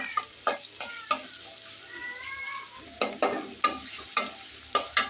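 Onions and chilies fry with a steady sizzle in a pan while a spatula scrapes and stirs in regular, clattering strokes.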